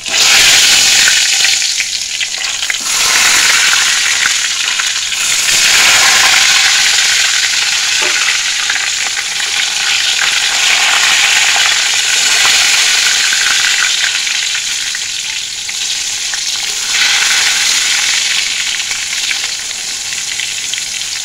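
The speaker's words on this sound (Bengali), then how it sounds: "বেগুনগুলো ভেজে নিই। অবশেষে বেগুনটা ভাজা হলো।" Eggplant slices fry in hot oil in a large wok-style pan, a loud, steady broadband sizzle that runs the whole time with occasional stirring surges and no voices.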